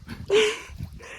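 A single sharp dog bark or yelp, close by, followed by quieter rustling and background noise.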